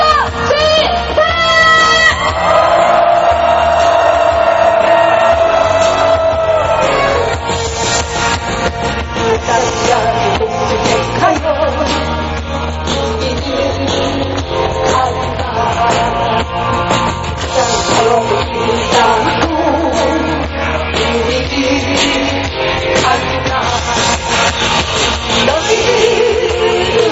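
A workers' crowd at a minimum wage rally roars a loud, sustained rally cry, many voices yelling together over a booming, reverberant outdoor sound.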